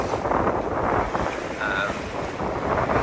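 Wind blowing steadily over a sailing yacht at sea in about 14 knots of breeze north of the Spanish coast, a continuous loud rushing buffet against the microphone with no voices.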